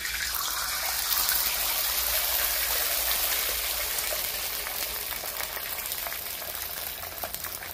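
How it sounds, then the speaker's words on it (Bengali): A salted egg omelette fries in a pan with a steady, dense sizzle that holds evenly throughout, loud and close, with no talking. "শুধু নুন দিয়ে আমি কিন্তু অমলেটটা ভেজে নিচ্ছি"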